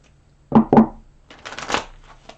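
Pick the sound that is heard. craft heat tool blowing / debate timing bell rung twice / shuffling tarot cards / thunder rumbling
shuffling tarot cards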